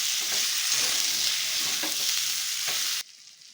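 Masala with vegetables and chopped brinjal frying in a pan, giving a steady, loud, dense sizzle with a few soft stirring knocks, which then suddenly drops to a much quieter hiss near the end.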